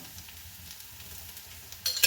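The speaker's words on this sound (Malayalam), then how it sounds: "ഒരു ടീസ്പൂൺ നെയ്യ് ഒഴിക്കാം" Ghee goes into a hot pan with a faint, low crackle that swells into a brief, louder sizzle right at the end.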